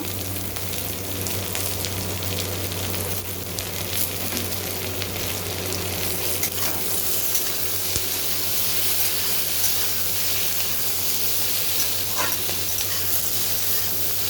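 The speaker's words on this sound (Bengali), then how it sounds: "টমেটোর কাঁচা গন্ধ যাওয়া অবধি আমি ভেজে নেব।" Tomatoes fry with mushrooms in a pan for a mushroom chilli dish, giving a steady, loud sizzle with hissing steam that runs continuously and evenly, with no talking.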